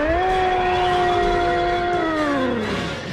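Roar of an Angel from Evangelion, a sustained inhuman wail with steady stacked tones that slowly sink in pitch near the end, loud and alone.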